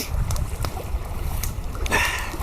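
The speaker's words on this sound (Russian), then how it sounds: "Ветер, ветерок, сильный ветерок." Strong wind blows across a river bank near a campfire on a mild day of about +5°C. It makes a steady, close, low rumble on the microphone with rushing surges, and no one speaks.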